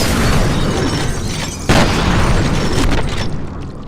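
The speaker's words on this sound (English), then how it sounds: "I just got grenaded!" A grenade explodes in the video game F.E.A.R., giving a loud, close boom that rises out of dense combat noise, followed by a rumbling, fading tail.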